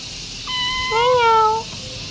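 A cat gives a single clear meow, rising and then falling in pitch over about a second, close by against quiet background hiss.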